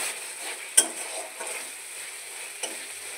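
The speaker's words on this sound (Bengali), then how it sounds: "মশলাটা একটু কষিয়ে নেব, তেল ছেড়ে এলে তারপর এই সেদ্ধ করা আলু আর বরবটিটা দিয়ে দেব।" Spice paste sizzles steadily in hot oil in a pan for a potato and yardlong bean curry, with a few sharp scraping clicks from stirring against the pan; no one speaks.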